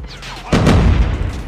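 A frag grenade blast in Call of Duty Mobile, one sudden loud deep boom with a rumbling tail that lingers under the game's background noise.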